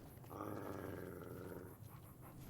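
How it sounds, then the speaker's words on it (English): A dog in a Fallout: New Vegas game scene at Camp McCarran gives a low, rumbling growl lasting about a second and a half, fairly close and moderately loud, with no speech. "Sorry about my dog."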